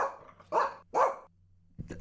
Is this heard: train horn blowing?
no